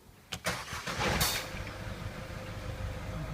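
A 1.6 diesel Citroen Picasso cranks briefly and fires, then settles into a steady close idle.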